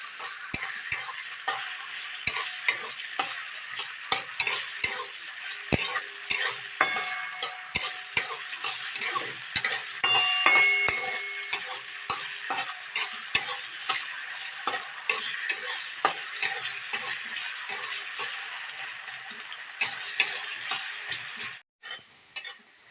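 Potato pieces deep-fry in hot oil with a bright, dense sizzle. Regular sharp clicks and taps of a spatula stirring against the pan come through alone and close for the whole stretch.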